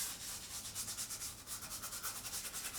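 Steady rhythmic scrubbing with a wet nail scrubber or large scrubber, quick back-and-forth strokes with a bright hiss, close and fairly quiet, with no talk.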